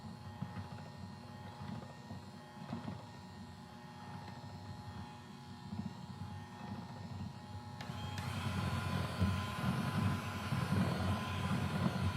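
An electric mixer creaming cake mix, butter and eggs whirs steadily nearby, its rough motor drone growing louder and fuller partway through.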